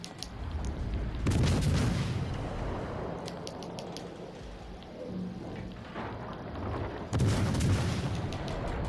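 Naval gun salvos from the cruiser USS Cleveland in World of Warships: two loud, heavy booming volleys about six seconds apart, each with a sharp crack and rolling rumble, over a steady game ambience.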